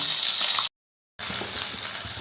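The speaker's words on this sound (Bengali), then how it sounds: "বাকি ফলির মাছ দুটোও আমি তেলের মধ্যে দিয়ে দিয়েছি এবার এই মাছ দুটো ভেজে নেব" Falui fish frying in hot oil in a pan, a loud continuous hiss and sizzle that cuts off abruptly for half a second and then resumes at full strength.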